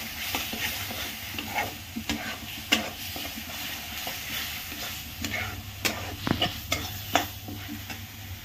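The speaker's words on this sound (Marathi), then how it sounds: "मसाला आता भाजून घ्यायचा आहे." Masala roasting and being stirred in a pan, with a steady low sizzle of frying beneath repeated scraping and clinking strokes of a spoon against the metal, close and continuous with no talk.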